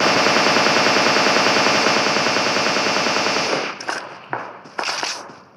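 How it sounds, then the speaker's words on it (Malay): Rapid, continuous automatic gunfire rattles loudly for several seconds in the video game PUBG, then breaks into a few scattered, sharp shots with brief gaps. "saya terdengar ada bunyi tembakan"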